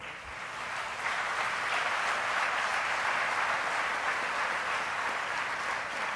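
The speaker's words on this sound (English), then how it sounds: "Yes, they deserve a better applause." Sustained applause from an audience for the top nine finalists at an ICTACT 2016 regional finals event, a dense even roar of clapping that swells after the first second and carries on steadily with no voices over it.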